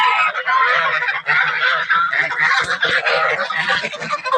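A flock of farm geese honk loudly and continuously nearby, their harsh overlapping calls forming a dense, unbroken clamor with no clear speech.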